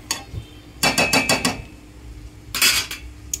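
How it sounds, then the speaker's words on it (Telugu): A steel plate is set down as a lid on a pan of rice upma, giving a run of quick metallic clanks and rattles followed by another sharp clatter moments later, close and alone. "ప్లేట్ మూత వేసేసుకుంటున్నాను."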